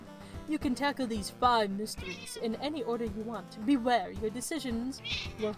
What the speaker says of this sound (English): I don't know if you can hear it, but my little kitty's meowing a bunch.